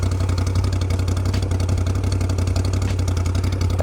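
A motorcycle engine idles close by, a steady, loud, low rhythmic chug that runs without a break and with no voices over it.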